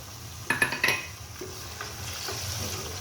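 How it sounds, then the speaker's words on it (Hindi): Chicken pieces with onion, ginger-garlic paste and tomato fry in a pan, a few sharp stirring clinks early on, then a steady low sizzle for the rest, close and alone. "अब ये चिकन, प्याज, अदरक लहसुन का पेस्ट और टमाटर अच्छी तरह फ्राई हो रहे हैं"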